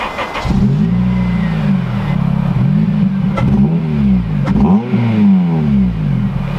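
A Honda Civic Type R FN2 engine revs repeatedly through a resonated twin-exit exhaust, rising and falling in several loud throaty swells, close by, with no talking.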